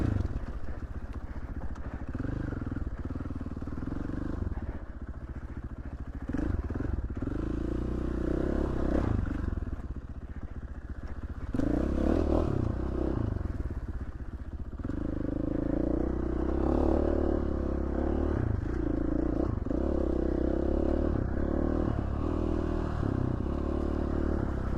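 KTM 450 four-stroke dirt bike climbing steep Idaho trails, its engine chugging and revving continuously up close while gravel and parts clatter throughout.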